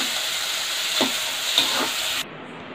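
Onions, tomatoes and cashews fry in a kadai pan for a paneer gravy, giving a steady, close sizzle with a few scraping stirs before the sound cuts off sharply near the end.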